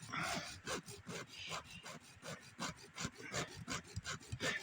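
A hacksaw blade rasps rhythmically through a tough toenail in a steady series of close back-and-forth strokes, each a gritty scraping rub, without pause.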